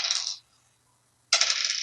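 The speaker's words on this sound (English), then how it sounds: "Don't roll that many dice." A handful of dice tumbling and clattering across a table during a tabletop role-playing game, two bright rattling bursts separated by a short silence.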